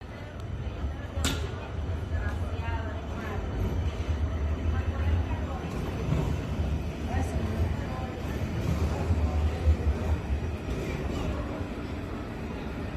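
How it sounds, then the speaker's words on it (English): Trams run through the streets of Freiburg in the Black Forest region, a steady low rumble of rail wheels and motors rolling close by with continuous city background noise, and no talking. "There are trams everywhere, crisscrossing, and it's amazing how often and frequently they run close to each other too."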